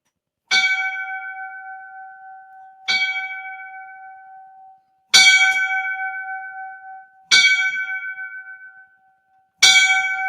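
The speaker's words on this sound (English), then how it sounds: "We got to give him the 5 bells" Five evenly spaced, ringing bell strikes for a fallen firefighter, each clear metallic tone decaying slowly before the next, heard alone in silence.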